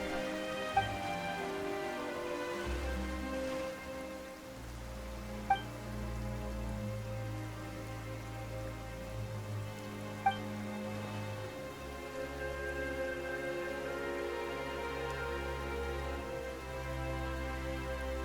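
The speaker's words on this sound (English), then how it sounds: "Why is it raining all of a sudden?" Rain falls in the video game Genshin Impact as a soft, even patter beneath sustained orchestral music, with a few faint sharp clicks and no talking.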